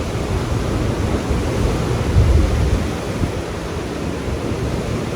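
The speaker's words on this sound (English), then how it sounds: "Enjoy the sound of waves" Ocean waves wash steadily onto a beach, a dense, continuous roar of surf with a slightly stronger swell in the middle, with no voices.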